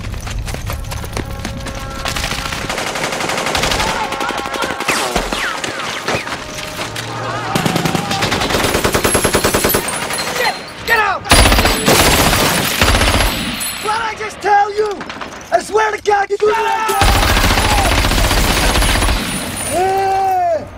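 A gun fires in rapid, loud bursts very close by in a war-film parody scene, with sustained automatic-fire clatter mixed with crashes and dense battle noise.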